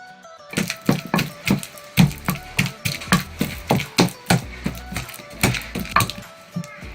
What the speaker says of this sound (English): Now our cocoyam is properly pounded.